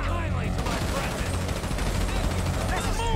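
Dense bursts of automatic gunfire from a GTA V shootout rattle on continuously and loudly, close up, with overlapping shots throughout.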